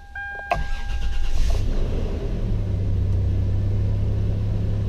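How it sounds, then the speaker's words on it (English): A 2020 Toyota 4Runner's engine cranks briefly and fires, then settles into a steady, close idle rumble after a few short electronic chimes. "Vehicle starts right up."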